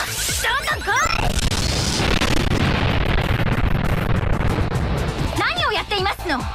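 An explosion in the Toaru Kagaku no Railgun PSP game, a loud burst of crashing, rumbling noise that carries through most of the moment, with voiced character dialogue at the start and end.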